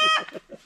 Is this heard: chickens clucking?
yes